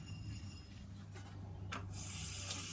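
A bottle brush scrubs bottles at a kitchen sink, worked by hands in small black rubber gloves. It makes a continuous close rubbing swish with a couple of sharper scrapes, and the sound grows a little louder toward the end.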